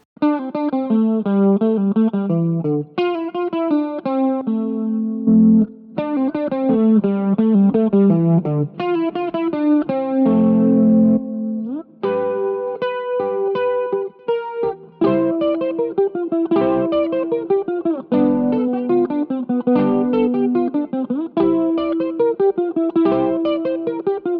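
Electric guitar run through a BOSS GT-100 multi-effects unit set to a tone, playing continuous melodic lines and bends with light overdrive, loud and alone with no talking.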